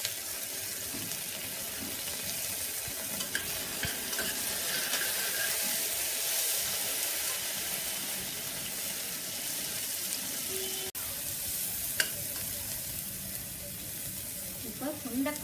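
Tomatoes fry with salt in a pan, giving a soft continuous sizzle, quiet and close, with occasional light scraping and utensil taps.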